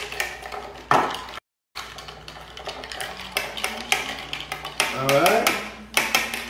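Ice cubes and a spoon clink and rattle against a cup as iced coffee is stirred before cold foam goes on, a busy run of bright taps and scrapes with a short pause and a voice talking over it.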